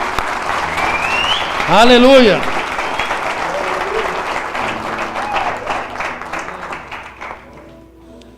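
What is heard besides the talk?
applause in church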